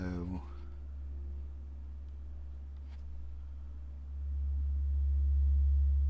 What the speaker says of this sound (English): back to a sine wave